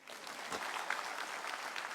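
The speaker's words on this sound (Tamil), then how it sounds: "அதுக்கும் கைத்தட்டுங்க." An audience at a speech by Tamil Nadu minister Ma Subramanian breaks into dense, continuous clapping that stays loud and steady for about two seconds.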